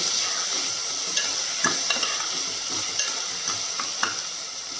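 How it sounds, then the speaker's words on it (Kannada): Tomatoes being stirred into sizzling masala for a simple chicken biryani: a constant frying sizzle with repeated spoon scrapes and soft knocks against the pot, close and loud, with no talking. "ಇವಾಗ ಟೊಮೆಟೊ ಹಾಕ್ತಾಯಿದ್ದೀನಿ. ಅದನ್ನು ಚೆನ್ನಾಗಿ ಮಿಕ್ಸ್ ಮಾಡ್ತೀನಿ."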